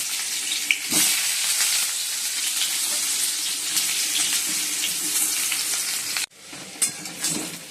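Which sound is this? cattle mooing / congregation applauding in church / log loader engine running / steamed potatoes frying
steamed potatoes frying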